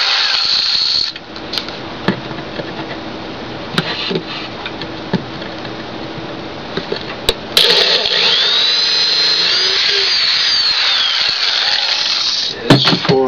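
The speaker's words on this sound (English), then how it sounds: "Now I'll drill 4 holes" A power drill bores a set of holes in wood while a router table is built. The motor whines in a continuous, close, loud run that surges partway through, with small clicks between passes and no talk.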